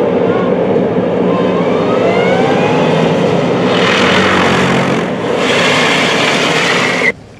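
A tactical wheeled armored vehicle of the gendarmerie driving during driver training, a loud steady engine roar with some shifting pitch, close by, cutting off abruptly at the end.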